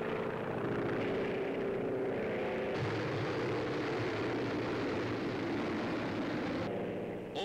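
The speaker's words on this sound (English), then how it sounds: "Roaring in over the beaches, movie camera planted squarely in the nose of a bomber for a ringside seat in an actual raid upon Nazi-occupied" Propeller-driven WWII bomber on a daylight raid over Nazi-occupied France, heard as a loud, steady, continuous engine roar that holds throughout with a shift in tone partway.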